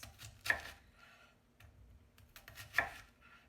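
A knife slices a fennel bulb into thin slices on a board, with two crisp, close cuts separated by quiet shuffling.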